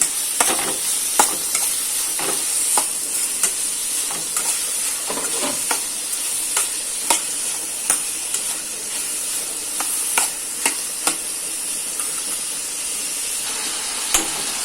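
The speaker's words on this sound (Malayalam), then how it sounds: "ആവശ്യമായ ഉപ്പ് ചേർക്കാം ഒന്ന് ഇളക്കി കൊടുക്കും" Fish curry with salt added is stirred in a hot pan, a steady sizzling hiss punctuated by regular sharp scrapes and clicks of the spoon against the pan, close up and without speech.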